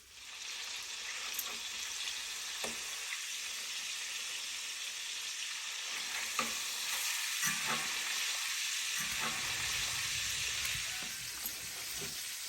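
Wiener schnitzel frying in Mangalitsa bacon grease, a steady close sizzle and crackle with occasional pops, heard alone throughout.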